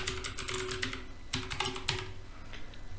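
Fingers type rapidly on a computer keyboard while a password is entered to log in to a teacher's lesson account, giving a steady run of close, crisp key clicks with a few louder taps and no talking.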